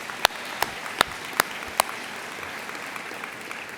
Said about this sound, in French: Et oui, applaudissez,